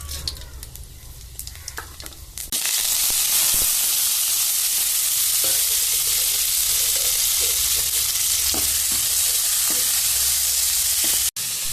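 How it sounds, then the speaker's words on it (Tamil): Fennel seeds tempering in hot sesame or other cooking oil in a pan, a sudden loud sizzle bursting in and holding as a steady bright crackling hiss. "பெருஞ்சீரகத்தை போட்டு தாளிக்கணும்."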